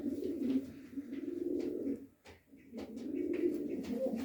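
Domestic pigeons cooing nearby, a continuous layered murmur of low throaty coos with a brief pause midway, fairly loud and close with no talk over it.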